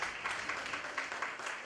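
Faint audience applause at a school end-of-year ceremony, steady rhythmic clapping heard from a distance.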